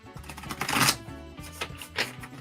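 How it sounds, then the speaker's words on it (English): A deck of new cards being shuffled, with several riffling, papery bursts of rustling and a softer one after, over a quiet background of sustained music. "it's going to take me forever and a day to shuffle"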